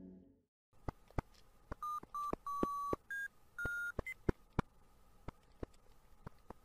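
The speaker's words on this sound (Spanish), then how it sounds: "esta no sería la única escena en donde escucharemos este pitido tan particular" Petscop game beeps play as a run of short, sharp clicks mixed with held tones of varying pitch, spaced irregularly like Morse code, fairly faint and without talk.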